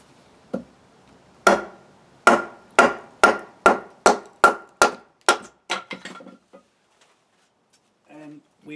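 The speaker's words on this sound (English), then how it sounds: "I'm just going to take my axe, let's have a look, let's line this up properly, give it a quick tap" An axe taps scrap wood to split it, about a dozen sharp, close knocks in a fairly even rhythm that fade to lighter taps before a faint rustle.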